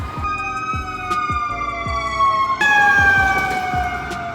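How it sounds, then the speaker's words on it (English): A fire engine siren wails past on a West Hollywood street, its sweeping tones loud and close, with a rhythmic pulsing horn pattern and a noticeable shift in pitch midway as it moves by. "As I say that, the fire engine"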